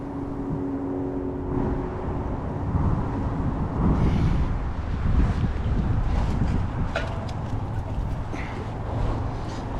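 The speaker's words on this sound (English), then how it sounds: "It's just too breezy" Breezy wind blowing across a fishing lake during an open match, a steady rumbling gusty noise on the microphone that rises and falls slightly, with some faint indistinct background sounds.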